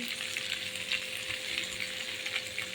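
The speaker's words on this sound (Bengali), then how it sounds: "পরিমাণ মতন হলুদ দিয়ে এবার নেড়ে চেড়ে সুন্দর করে কচুর জলটাকে একটু টেনে নেবো আমি" Taro frying with turmeric and salt in a pan, a dense, close, steady sizzle with faint stirring movement throughout, no voices.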